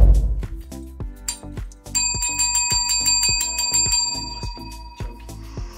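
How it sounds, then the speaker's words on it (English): A hand bell rung indoors, struck again and again in a steady, insistent rhythm, each bright metallic ring close and loud with a sustained shimmer between strikes. "so I've got my bell in this room and I'm going to use it on him all day long"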